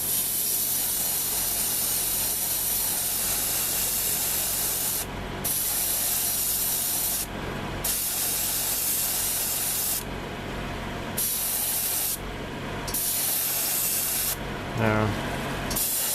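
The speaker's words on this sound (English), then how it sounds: "I'm just gonna go to Mr. Color 41 Red Brown and just do a light coat with this." An airbrush lays a light coat of flat Mr. Color 41 Red Brown paint on a 1:72 F-14A Tomcat scale model, making a steady close hiss that stops briefly several times, with no talking.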